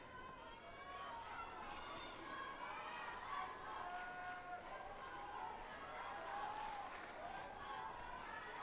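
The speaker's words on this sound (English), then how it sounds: "no wonder his coaching bench and his fans applaud" Fans and a coaching bench applaud and cheer after a badminton rally between Chen Long and Lee Hyun-il at the London 2012 Olympics bronze match, a distant, steady crowd roar under a commentator's voice.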